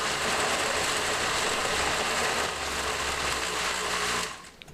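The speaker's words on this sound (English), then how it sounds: "we don't want to blend it too much" A kitchen blender grinds taco meat with a steady, loud, dense whir for about four seconds, then cuts off into near quiet.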